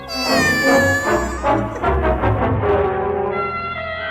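A cat meows loudly and insistently, a long drawn-out wailing cry with no talk over it.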